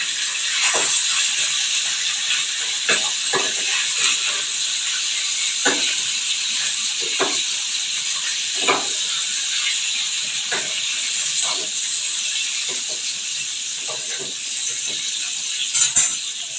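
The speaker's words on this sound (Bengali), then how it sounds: "এদিকে দেখো মাছগুলো প্রায় ফ্রাই হয়ে আসছে" Fish fry in hot oil in a pan, giving a steady bright sizzle and hiss throughout, broken by scattered soft clicks and pops, with no talk.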